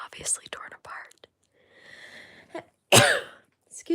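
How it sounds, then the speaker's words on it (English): A single sharp sneeze from a person partway through a told story, loud and close, following quiet whispery speech and a soft breathy pause. "Excuse me, I had a sneeze."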